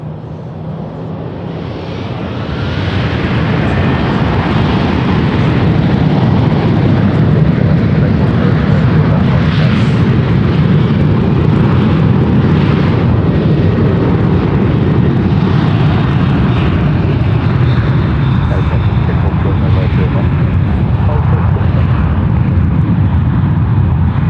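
Alaska and Delta airliners take off side by side on parallel runways at SFO, a loud, broad jet roar building within seconds and then holding powerful and sustained as the engines spool up for departure.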